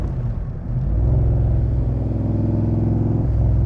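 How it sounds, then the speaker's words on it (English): Crendon Cobra replica roadster driven on a sunny day, its engine rumbling low and steady, swelling louder after a brief softer moment and then holding a deep, even drone close by. "Couldn't think of anything better to be doing on a sunny day than driving around in a Cobra."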